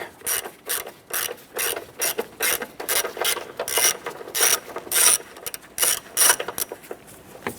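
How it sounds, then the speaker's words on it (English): An 8mm socket wrench on an extension loosens the battery hold-down bolt on a 1993–1997 Ford Ranger, giving a close, rapid ratcheting clatter in repeated short bursts that speed up and slow down for several seconds. "Using an 8mm socket and extension, we're going to go ahead and remove this bolt here."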